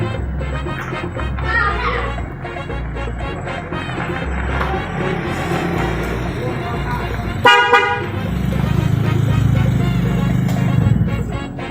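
A car horn toots in short blasts over a nearby engine idling and outdoor street noise, with people talking and children's voices in the background.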